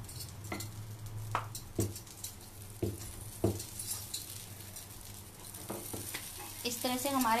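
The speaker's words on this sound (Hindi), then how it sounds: "इस तरह से हमारे कबाब भी सिक रहे हैं, आप देख सकते हो।" Kebabs sizzle and fry in a pan in a home kitchen, a crackling sizzle broken by sharp clatters of stirring and utensil knocks, with a louder burst of spitting near the end.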